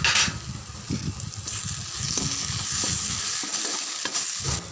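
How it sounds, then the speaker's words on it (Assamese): Chopped tomato and turmeric sizzling in hot oil in a pan, a loud steady crackle and hiss with a spatula stirring and scraping at irregular intervals, close and dominant with no talk. "কাটি লোৱা বিলাহীটো ইয়াতে দি দিম তাৰপাছত অকণমান ভাজিম ভালকৈ"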